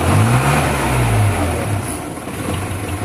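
A Chevrolet D20 pickup engine idles roughly and revs unevenly up close, a low uneven drone that swells and sags over a few seconds.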